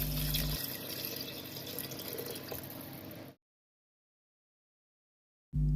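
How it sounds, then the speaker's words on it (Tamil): Water poured steadily into a pot of vegetable biryani rice, a continuous close splashing stream that stops abruptly, followed by silence. "ரைஸ்க்கு டபுள் மடங்கு தண்ணியை இப்போ அளந்து ஊற்றிக்கலாம்."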